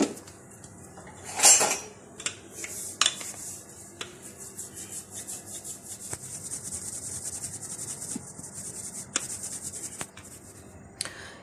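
Dough for sweet tikiyan is rolled out on a board, a continuous rubbing roll with scattered knocks and clatters of the rolling pin, close and alone.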